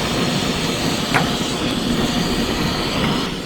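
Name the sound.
water boiling on a camping stove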